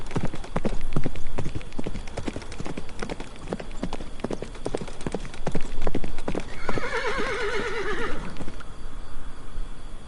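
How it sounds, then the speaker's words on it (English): A horse galloping off with rapid, rhythmic hoofbeats close by, followed by a loud, wavering neigh near the end as the hoofbeats fade. "He hurried to his horse, mounted swiftly, spurred hard, and vanished into the night."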